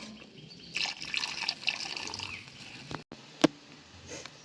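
Water is poured into a pan of chicken gravy cooked with ridge gourd, splashing and trickling in short bursts with a few drips and a sharp clink, close up and with no talking.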